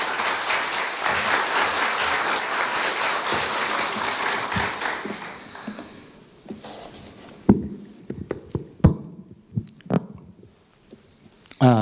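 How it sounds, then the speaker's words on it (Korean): Audience applause at a Korea University staff retirement ceremony: dense, loud clapping for about six seconds, then fading into scattered single claps and small knocks. "박원철 부장님을 큰 박수로 맞이하여 주십시오"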